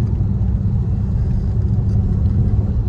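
A Renault Talisman driven hard on mountain roads in sport mode gives a steady, loud engine rumble from inside the car, with no pause across the few seconds.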